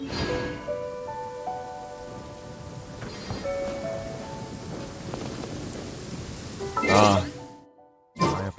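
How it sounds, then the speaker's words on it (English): Heavy rain in a video game pours steadily with rumbles of thunder, under tonal game music and voices, then cuts briefly to silence near the end. "This heavy rain must be quite an inconvenience for you."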